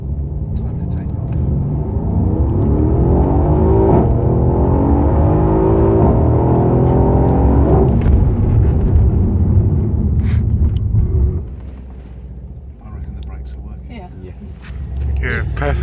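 A Mercedes-Benz C63 AMG accelerates hard down a former runway. The engine note climbs through gears with loud rising revs and brief shift breaks, then drops to a lower rumble near the end.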